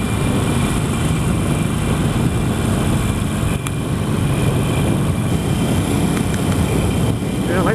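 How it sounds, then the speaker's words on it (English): A Harley-Davidson Iron 883 motorcycle rumbles steadily on a ride, its engine drone mixed with wind rush, and someone talks over the constant noise. "what a beautiful day for a ride on an 883"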